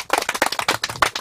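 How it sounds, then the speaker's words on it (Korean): A small group at an outdoor organic farm visit claps in quick, closely spaced bursts, a brief crisp round of hand claps heard nearby. "다시 한번 큰 박수 부탁드릴게요."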